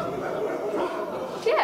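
A group of people imitate dogs barking in a loose burst of yelps and woofs, rising louder near the end, with chuckling mixed in.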